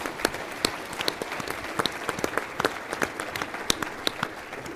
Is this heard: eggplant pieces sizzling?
no